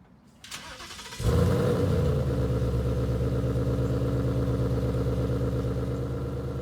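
After a quiet, hissing lead-in and a short starter whir, a 2019 Mustang GT V8 fires up in quiet exhaust mode and settles into a steady, subdued, even idle heard up close, with no talking.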